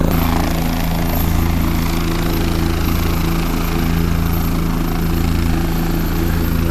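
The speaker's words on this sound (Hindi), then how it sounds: "यहाँ से वापस दूसरे 5 जनों को बिठा कर यहाँ से हेलीकॉप्टर रवाना होगा।" A helicopter runs loud and close at a village site in Rajasthan after dropping flowers, its steady engine and rotor drone filling the whole stretch without a break.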